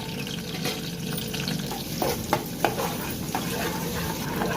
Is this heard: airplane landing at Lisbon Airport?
no